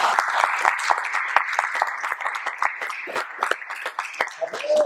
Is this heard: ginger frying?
no